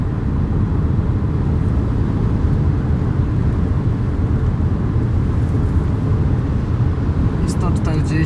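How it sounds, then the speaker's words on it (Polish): Skoda Kodiaq iV 2024 plug-in hybrid accelerating flat out in electric e-mode on a motorway toward 140 km/h, a steady loud low road and wind roar throughout, with a brief clatter at the very end. "No i dojadę teraz na maksymalną prędkość 140 na godzinę. Naciskam gaz do dechy."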